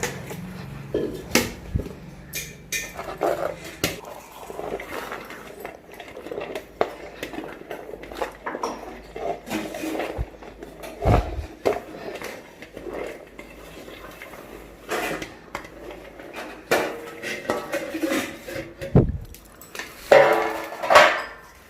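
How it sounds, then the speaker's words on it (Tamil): A ladle stirs small onions and flour together in a metal vessel for onion vadagam, giving repeated clinks and scrapes in an irregular rhythm, close and fairly loud, with no talk. "இந்த கரண்டியால் கலந்து விட்டுக்கலாம்"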